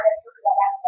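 A human voice mimics the call of an Asian koel with a short, tonal, whistle-like phrase of two or three rising notes, alone and close.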